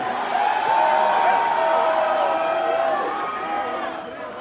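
Concert crowd at a metal show during Hells Heroes 6 in Houston, Texas, cheering and whooping loudly in a sustained roar that slowly fades; a voice carries over the crowd at times.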